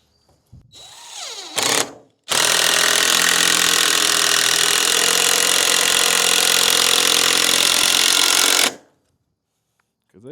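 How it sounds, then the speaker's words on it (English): Power tool running steadily for about six seconds while driving screws into wood on a backyard project, a loud continuous whir that comes in after a brief start-and-stop burst, then cuts off into silence. "We're gonna go back through and we're gonna screw it tight"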